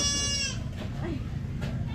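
A goat on a rural property with a cement floor and grass gives one short nasal bleat near the start, over steady low background noise and rustling.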